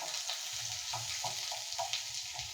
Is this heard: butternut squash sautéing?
yes